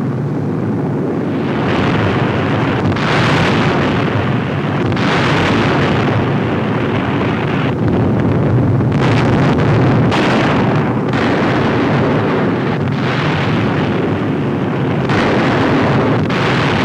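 Bombs bursting during an RAF daylight air raid on a large radio factory, a continuous heavy roar of repeated explosions and rumbling blasts with no clear gaps.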